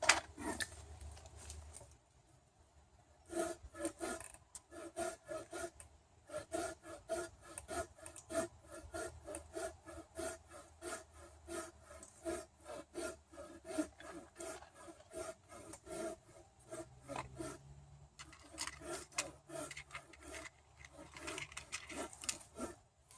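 A hand saw cuts wood for a campfire outdoors in rhythmic back-and-forth rasping strokes, close and steady, with a brief pause early on before the sawing runs continuously to the end.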